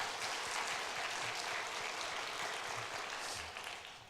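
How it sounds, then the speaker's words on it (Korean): A church congregation claps steadily and loudly throughout in a dense, sustained round of applause for a youth praise team, which tapers slightly at the end. "크게 박수 한번 보내드리시죠"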